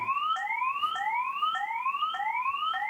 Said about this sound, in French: Petite démo de l'alarme.